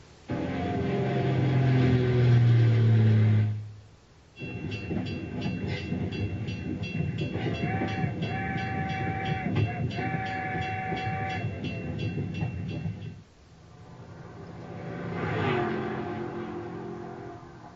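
Three vehicle sound effects in succession: a roaring engine fading out, then a long rumbling train passage with whistle-like tones, then a brief passing car.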